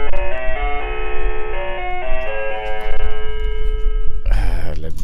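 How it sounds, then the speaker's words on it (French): A bell rings out during a bizarre repair job, sustained metallic tones holding steady with layered harmonics for several seconds before a brief clatter near the end. "Ah, le bon vieux bruit. La cloche."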